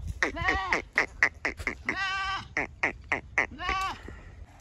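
Goats bleat repeatedly in a pen, including one that has not eaten since the day before, with close, loud wavering cries, some short and some drawn out, coming in quick succession with a few overlapping.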